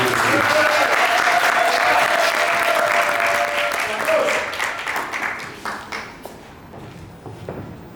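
Audience applause at a book signing conference in Yaoundé, a dense, loud wash of clapping that gradually thins and fades toward the end, with a voice briefly audible underneath.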